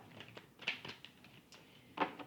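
Tarot cards are shuffled close up, a quiet irregular series of soft papery flicks and riffles with a couple of sharper snaps, no voices.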